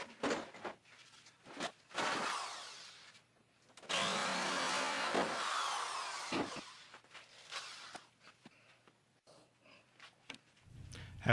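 A power drill whirs in bursts, biting into wood with grinding, rasping noise, pausing between runs; close and fairly loud, with no talking.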